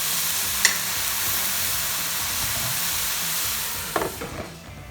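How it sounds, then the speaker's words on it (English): Mushrooms and onions browning in a pan for beef stroganoff, a loud, steady frying hiss with a sharp click near the start and a few utensil scrapes toward the end, without speech. "So just brown the mushrooms really well with the onions."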